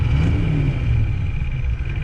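Low rumbling diesel engine of a truck with a 7.3 IDI turbo under light throttle, faint steady turbo whine on top, continuous and close.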